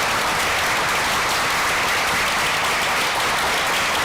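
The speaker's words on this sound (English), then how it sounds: "So a round of applause for our students." An audience at a panel event with students applauds steadily, dense continuous clapping throughout, fairly loud and without talk.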